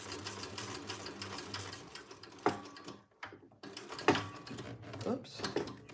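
A sewing machine stitches rows of stitches in rapid mechanical bursts, with brief pauses between runs and noisy clicking from clips on the fabric, close and moderately loud, while someone speaks now and then.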